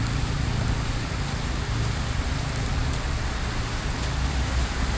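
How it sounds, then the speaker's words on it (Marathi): Heavy monsoon rain pours down in Mumbai, a loud, unbroken wash of hissing rainfall on surfaces with faint traffic underneath, steady from start to finish and free of voices. "जोरदार पाऊस पडतोय मस्तपैकी."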